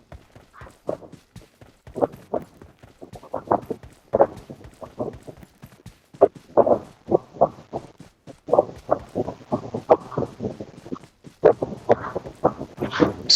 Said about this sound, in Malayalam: കുതിരയുണ്ട്